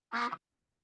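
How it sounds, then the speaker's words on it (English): A single short, nasal duck quack from a 3D video game, clean and alone against silence. "I hope you are able to hear the ducks."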